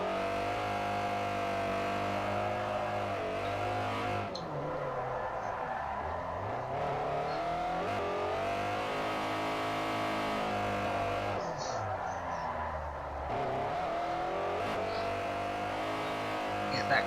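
A car engine in Forza Motorsport 4 revs hard and continuously on the Fujimi Kaido track while drifting, its pitch climbing and dropping with repeated gear changes and throttle lifts, loud and up close throughout.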